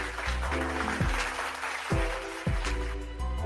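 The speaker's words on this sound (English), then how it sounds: "I'm gonna get a hand clap for her." A few sharp hand claps ring out over a continuous musical bed, spaced roughly a second apart and fairly quiet overall.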